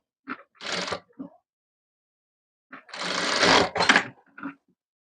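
Short bursts of a sewing machine stitching fabric come close and loud, a brief pair of runs followed by silence and then a longer, stronger burst with small clicks at the edges.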